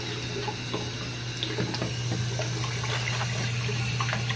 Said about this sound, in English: put on some warm water